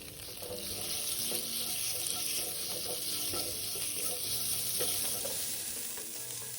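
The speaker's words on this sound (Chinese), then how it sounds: "炒至肉丝颜色转乳白色" Shredded pork stir-fried in a wok with fried shallots sizzles and hisses steadily at close range, with a spatula scraping and tossing throughout.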